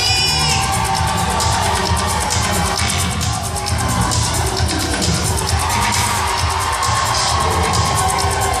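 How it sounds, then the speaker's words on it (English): A crowd at a lumberjack sawing competition at SeaWorld San Antonio cheers and shouts continuously, loud and dense, with children's yells and whoops over rhythmic sawing noise. "Keep cheering them on"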